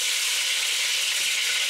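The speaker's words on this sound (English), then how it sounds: "And as you can see, I started fry already, and then the meat is start get golden" Chicken pieces for ginger pepper fried chicken sizzle loudly in hot oil, a dense, even hiss held without a break for the short moment, close up and with no voices.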